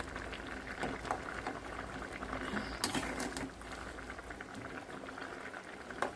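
Egg omelette curry with potatoes simmering in a covered pot, a steady soft bubbling boil with occasional louder pops, close and continuous with no talking.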